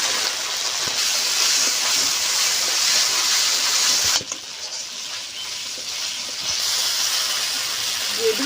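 Pre-fried potatoes dropped into hot spiced oil for a Bengali chal kumro and fish curry, giving a loud, bright, continuous sizzle that dips briefly midway before rising again, close and without talk.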